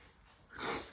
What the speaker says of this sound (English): excuse me for blowing my nose